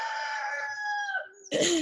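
A single rooster crow rings out close and clear, a long sustained call that bends downward, followed by the start of another cry.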